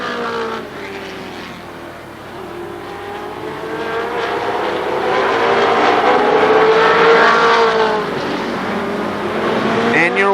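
Race cars lap Shadybowl Speedway on the final lap, engines roaring and rising in pitch as they sweep past, loud and sustained, under a track announcer's voice.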